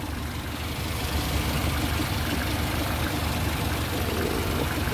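A car engine idles right after starting, sounding sluggish: a steady low rumble held close and fairly loud, with no speech.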